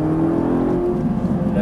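Ferrari 458 Italia accelerating on a track at Dreux, a rising engine note heard from inside the car under a French voice giving instructions.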